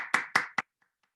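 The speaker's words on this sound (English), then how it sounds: "Let's get a big round of applause to Adrian." Three sharp hand claps in quick succession during an online video meeting, close and crisp, each ringing briefly before fading into silence.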